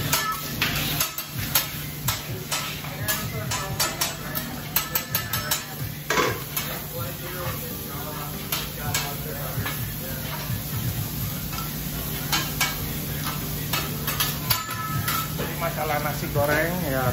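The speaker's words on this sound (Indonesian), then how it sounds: "Masalah nasi goreng, ya teman saya lagi mengerjakan nasi goreng di sana." Nasi goreng fried rice stir-fried on a hibachi grill in a halal restaurant kitchen: continuous sizzling with rapid clanking of metal spatulas on the hot surface, busy and close, with voices talking in the background.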